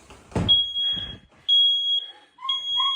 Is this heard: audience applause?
no